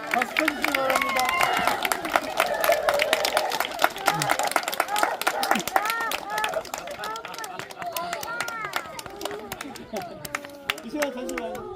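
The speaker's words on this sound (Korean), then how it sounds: "박수 쳐주시기 바랍니다" A church congregation applauds after an immersion baptism at a Sunday service, with sustained crowded clapping heard up close and children and adults chattering over it throughout.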